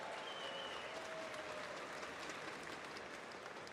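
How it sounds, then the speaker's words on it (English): Steady applause from an esports tournament crowd, continuous clapping that stays even and fairly loud throughout. "So give yourselves a round of applause."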